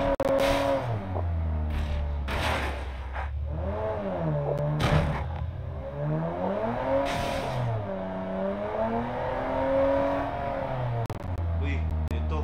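A Bentley's engine revs in PUBG, rising and falling in pitch with several surging sweeps, heard under someone talking for most of the stretch.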